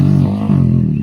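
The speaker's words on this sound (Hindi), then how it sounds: "बाइक का साउंड देखो यार," A Hero Xpulse motorcycle with a race-ready engine runs on a track, giving a brief, loud, steady engine drone.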